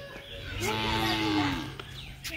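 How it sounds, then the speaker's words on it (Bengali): A village cow lets out one long, drawn-out moo that rises and then fades, close and fairly quiet, with a few faint background noises around it. "তো গরুটা নিয়ে এসে কুড়া জল খাওয়াই"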